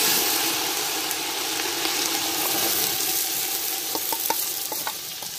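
Ginger fries in oil and is stirred in a pot while khichuri cooks, a dense, loud, continuous sizzle with scraping stirs and a few sharp clinks toward the end.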